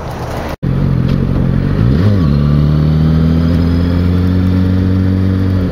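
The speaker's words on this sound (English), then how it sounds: "This is Thanksgiving traffic" Road traffic during the Thanksgiving holiday: a loud, steady engine drone from inside a moving vehicle, with one revving swell in the middle and a constant close rumble throughout.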